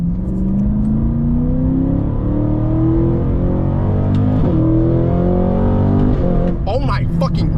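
A 668HP Cadillac CT5-V Blackwing in manual mode accelerates hard from inside the cabin, the engine note climbing steadily through a gear, dipping at a shift, then pulling again, loud and close, with voices breaking in near the end.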